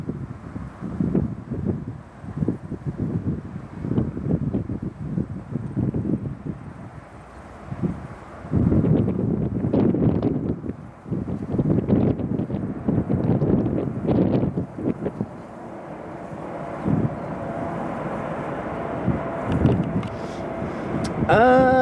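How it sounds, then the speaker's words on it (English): Gusty crosswind buffets a microphone at Chicago O'Hare airport, loud rumbling bursts rising and falling throughout, with faint talk and distant aircraft noise mixed in. "A little bit of a crosswind today, keeping the pilots honest."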